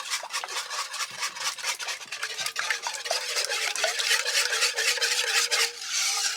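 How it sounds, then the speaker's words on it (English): Wet ingredients with sunflower oil are whisked briskly in a bowl, the rapid rhythmic scraping strokes repeating close and steady throughout with no talking. "Now I'm going to whisk all the wet ingredients together."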